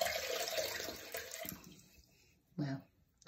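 Running water flows into a sink while a face cloth is rinsed during a night-time skincare routine, a steady close splashing that fades, then a brief louder slosh near the end.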